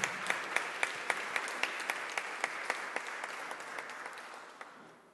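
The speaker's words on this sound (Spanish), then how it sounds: "queremos recibirlos con un fuerte aplauso" A crowd applauds to welcome guests, including the Senate president, at a keynote lecture, steady clapping with a few sharp, evenly spaced louder claps standing out near the front, slowly fading toward the end.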